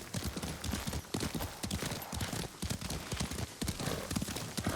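Steady rhythmic clip-clop of horse hooves at a trot in the video game Ghost of Tsushima, close and continuous, with faint background ambience.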